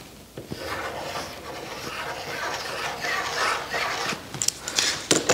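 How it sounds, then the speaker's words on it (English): A graphite mechanical pencil rubs and scratches steadily across a fine silver sheet while a circle is stenciled on, a close, continuous dry rasping with a few sharper ticks near the end. "I'm going to take my fine silver sheet and I'm going to be stenciling on a circle just using a little graphite pencil"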